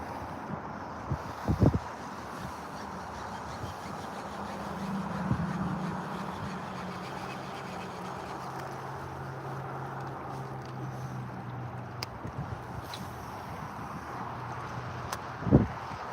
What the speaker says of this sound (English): Today the wind has been pretty bad, on and off in spurts anyways.